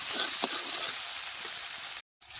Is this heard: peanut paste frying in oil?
yes